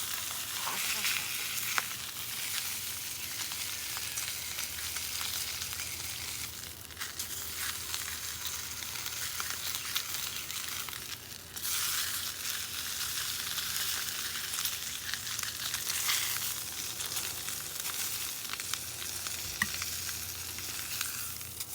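Sous vide steaks searing in a hot pan, a steady, faint hiss and crackle of sizzling fat that continues without break, with slight swells as the meat shifts.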